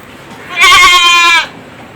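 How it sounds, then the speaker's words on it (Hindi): A Hyderabadi goat at a goat farm lets out one loud, close, quavering bleat lasting under a second, with quiet farm ambience before and after. "हैदराबादी बकरे हैं दोनों"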